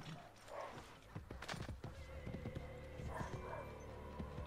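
Horse hooves clip-clop at a gallop in the video game Assassin's Creed Brotherhood, with a whinny early on, a steady close rhythm over game ambience.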